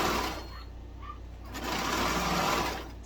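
A sewing machine runs continuously while stitching a tee shirt, a fast steady mechanical whir with a slight rise partway through, close and fairly loud.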